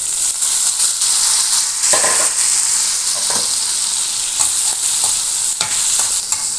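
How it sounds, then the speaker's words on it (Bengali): Dried fish frying in oil with chopped onion, garlic and green chili, a loud steady sizzle close by, broken by repeated scrapes and stirring strokes, with no talk. "শুটকি ভাজা হয়ে গেছে। এখন দেবো পেঁয়াজ কুচি"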